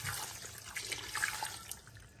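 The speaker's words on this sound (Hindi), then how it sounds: "नमक के बाद मैं शामिल करूंगा इसमें 1 गिलास पानी।" A glass of water is poured into mutton karahi cooking in a pan, a brief splashing, bubbling pour heard close and alone.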